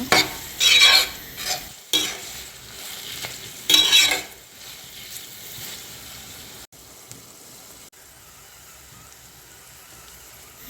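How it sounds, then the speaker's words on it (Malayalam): Kanthari chillies are stirred with salt in a hot pan for pickle, giving bursts of scraping, sizzling stirs in the first few seconds before a quieter, faint frying hiss. "രണ്ട് ടേബിൾ സ്പൂണോളം ഉപ്പും ചേർത്ത് വീണ്ടും നന്നായിട്ട് വഴറ്റുക."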